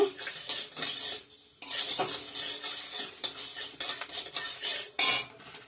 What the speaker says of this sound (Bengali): শুকনো খোলায় ভেজে রাখা মশলাগুলো আমি এখানে শুকনো লঙ্কা দিয়ে দিচ্ছি এখন ধনে দিব গোটা ধনে